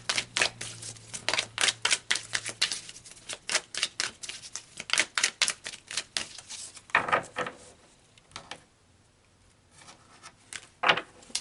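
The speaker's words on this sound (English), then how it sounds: "So let's pull some more cards here." Tarot cards being shuffled, a rapid run of crisp riffling card flicks and slaps close up, pausing briefly before a final few snaps, with no talking.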